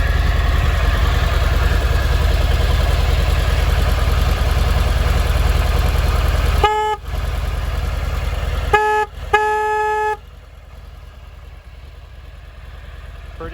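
A motorcycle fitted with a Screaming Banshee Mini-Banshee exhaust idles with a loud, steady low rumble, broken midway by a few short, sharp horn-like toots before the idle continues.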